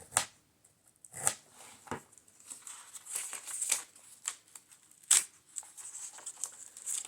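An X-Acto knife slices through index cards and scrapbook paper in short, separate scratchy strokes with brief rustles and small clicks between them, close and fairly quiet.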